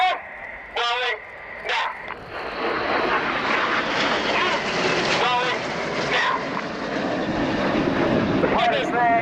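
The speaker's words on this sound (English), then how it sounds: "The pilots there in the Revolution flying aileron roll, a full left-hand control column input." Red Arrows BAE Hawk T1 jets fly the Revolution aileron roll at the RIAT 2017 airshow, a loud sustained jet roar building and holding, with a commentator's voice over a public address system throughout.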